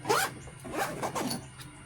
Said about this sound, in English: zip this back up